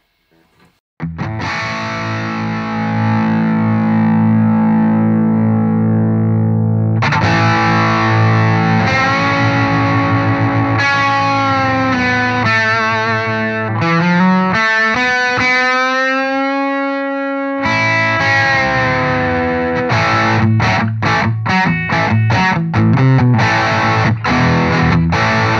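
Electric guitar through an H&K Spirit Nano amp with the volume pushed up, loud and distorted, mixing held chords with bending, fast lead runs and choppy rhythmic bursts, alone without speech.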